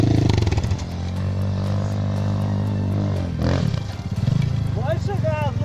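A Motoland CRF enduro motorcycle engine drones steadily at close range, then revs and surges near the end, with people talking over it.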